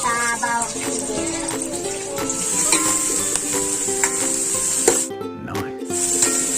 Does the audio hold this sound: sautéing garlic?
yes